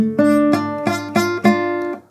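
A guitar chord is strummed four times with poor fingering, ringing with a slightly buzzy, uneven tone before fading out.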